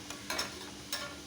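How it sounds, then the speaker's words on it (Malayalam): Chopped tomatoes are stirred in a pan for a prawn roast, giving a few brief, soft scraping strokes over a faint, steady sizzle in a quiet kitchen. "തക്കാളിയും ചേർത്ത് നന്നായി ഇളക്കാം"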